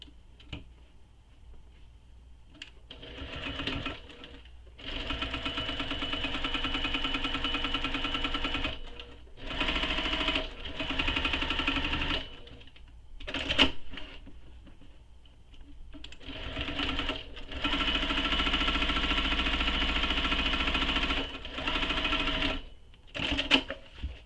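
A sewing machine stitches a convertible tote bag in several steady runs, stopping and starting between bursts, close and clear with short quiet pauses.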